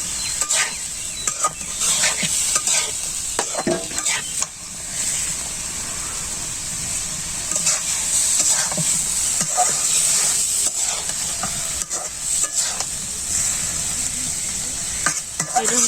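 Oil sizzles steadily in a pan as food fries in a traditional village kitchen, with occasional stirring scrapes over the continuous crackling hiss.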